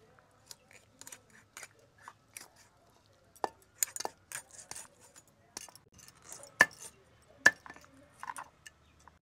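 Tengra fish being cut on a boti blade, a series of sharp, close crunching and snipping clicks at an irregular pace, quiet between strikes, with occasional voices nearby.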